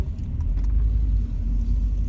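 Car interior while driving through town traffic, a steady low engine and road rumble throughout, fairly loud and continuous with no talk.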